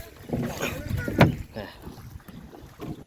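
A boat rowed by its passengers on a river around a char in Fulchhari, Gaibandha: close splashing oar strokes, one sharp splash standing out, with wind and voices around.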